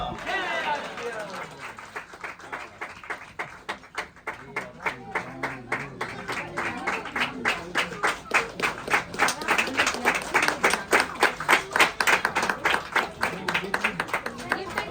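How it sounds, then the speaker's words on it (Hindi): Audience clapping at a family celebration event in Mumbai, starting scattered and building into dense, rhythmic applause that grows louder and more unified toward the end, with voices underneath. "एक बार तालियां होनी चाहिए सर के लिए और मैम के लिए"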